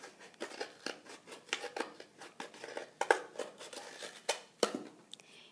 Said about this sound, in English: So I'm just going to cut this straight across.